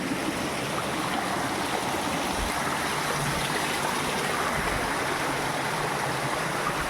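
Steady rushing of a flowing stream of drinking water in Mon district, Nagaland, continuous and fairly loud throughout with no voices.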